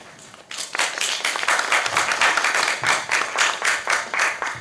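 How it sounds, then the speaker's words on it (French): An audience breaks into applause, a dense, rhythmic clapping from many hands that swells quickly and carries on evenly, fairly loud and without speech. "Vous pouvez applaudir, je vous en prie."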